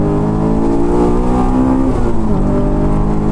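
A Honda AP1 S2000 with full bolt-ons and no tune blips its engine during a smooth heel-toe downshift, a loud, steady in-car drone whose pitch rises sharply and then settles.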